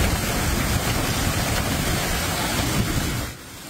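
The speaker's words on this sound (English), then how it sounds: "Large hail crashed into homes and covered this family's front yard in Arizona." Large hail pounding homes and a front yard in Arizona during a severe storm, a dense, steady roar of impacts that stays loud for most of the clip before easing slightly near the end, with no voices.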